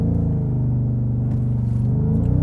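A 2023 Ford Raptor R truck with a supercharged 5.2-liter V8 gives a deep, close, steady engine rumble during a launch, the tone climbing slightly toward the end.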